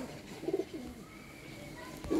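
Imamdin pigeons coo softly, a few short rolling calls near the start and again at the end over a quiet background, with faint talking present.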